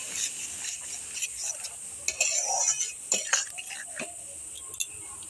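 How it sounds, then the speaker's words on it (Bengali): Spiced masala with a little water stir-fried in a pan for a pangas fish curry, low sizzling with spatula scrapes and occasional metal clinks, close and moderate. "এবার দিয়ে দেব সামান্য জল সামান্য এবার দিয়ে দিলাম সামান্য জল সামান্য জল দিয়েছি এবার মশলাটা কষিয়ে নেব"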